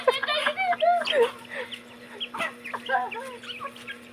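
Chickens cluck repeatedly nearby in short, bright bursts, with a faint steady hum and what may be soft voices in the background.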